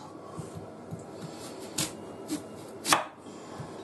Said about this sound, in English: I'm going to cut it into chips.